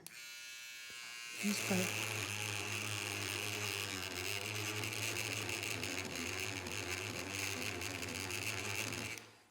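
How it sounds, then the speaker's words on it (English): A battery-powered power eraser buzzes steadily and loudly against a charcoal drawing for several seconds, a constant motor whine with brief speech at the start. "It's the power eraser."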